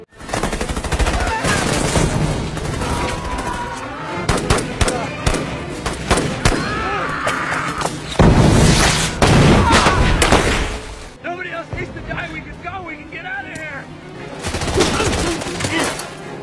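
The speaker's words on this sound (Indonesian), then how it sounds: "terlihat Joe Enders dan marinir lainnya yang tengah berjuang menghadapi para tentara Jepang di Kepulauan Solomon" A war film battle of marines fighting Japanese soldiers in the Solomon Islands in 1943 brings loud bursts of rapid gunfire and explosive crackling, with a narrating voice speaking through and between the bursts.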